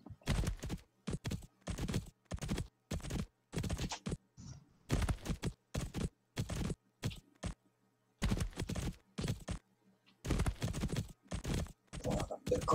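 Hooves clip-clop in bursts during a video game horse-jumping course, sharp rapid clusters of clattering beats separated by short silent gaps, close and fairly loud with no talking.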